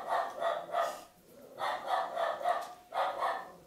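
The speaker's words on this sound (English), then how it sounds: "Our dog is going insane at somebody out front." A dog barks insistently at someone out front of the house, several bursts of rapid barking separated by short pauses, heard from indoors at a moderate distance with no talk over it.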